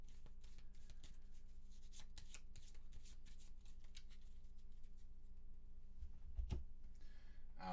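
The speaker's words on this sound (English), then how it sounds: "We got to shuffle this." Deck of board game cards being shuffled by hand for a solo game of Gloomhaven, a steady run of crisp riffling and sliding bursts at close range, with no talking.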